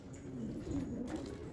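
Pigeons coo softly in a loft, low throaty rolling calls repeating steadily at close range with a faint background hum.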